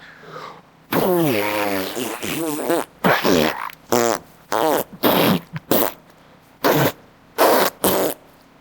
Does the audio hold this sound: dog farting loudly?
yes